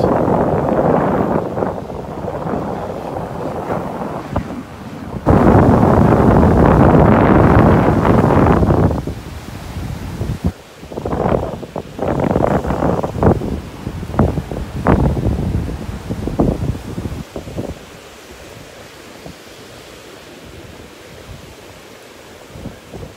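Strong wind on a beach in North Naples, Florida, roaring and buffeting the microphone in loud gusts that swell, drop away and return, with rustling bursts and a calmer stretch near the end.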